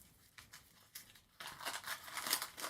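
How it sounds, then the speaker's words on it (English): Foil and wrapping crinkle and tear as a Hotel Chocolat extra thick white chocolate Easter egg is unwrapped, starting with sparse soft rustles and building into continuous close crumpling. "Let's just unwrap."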